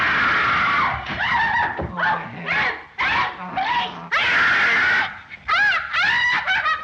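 A woman screams and wails hysterically in the 1933 film The Invisible Man, with loud, drawn-out shrieks in repeated bursts, broken by short pauses and some background noise.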